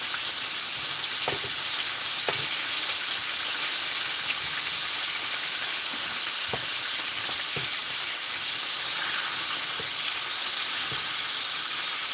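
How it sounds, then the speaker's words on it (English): Chicken frying in oil in a pan for sweet and sour chicken makes a constant dense sizzle and hiss, with scattered small pops and light taps of stirring nearby, and no voices. "Just frying chicken. Basically just frying chicken."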